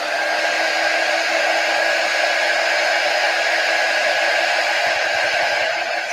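Loud, steady hair dryer blowing close by to dry chalk paste on a 5x12 box frame with a country church design, a constant whirring rush with a faint tonal whine and no talking.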